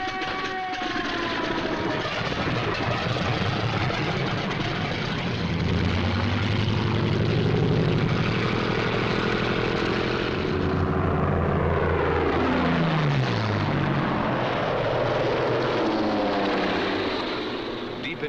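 Engines of German Bf 109 and Focke-Wulf 190 fighters in 1945 wartime film, a loud sustained propeller drone with swelling and falling pitch, one aircraft sweeping past mid-clip, heard under a faint voice.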